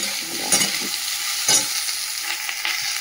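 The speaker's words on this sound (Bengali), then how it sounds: "তাহলে আলু পেঁয়াজটা একটু নেড়ে নিলাম" Potatoes and onions are stirred in a sizzling pan, a steady frying hiss broken by a few scraping strokes of the spoon, close and without speech.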